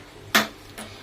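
A gas stove's igniter gives two sharp, close clicks about half a second apart as it is lit to fry pointed gourd. The first click is louder and the second fainter.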